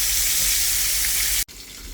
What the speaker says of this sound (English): I've noticed the frying, just the crisp has changed a little bit